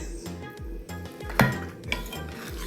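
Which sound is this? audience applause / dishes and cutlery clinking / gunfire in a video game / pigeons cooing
dishes and cutlery clinking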